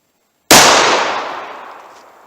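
A single .357 Magnum shot of Speer Gold Dot 158 grain ammunition, loud and close, with a sharp crack that rings out into a long fading decay.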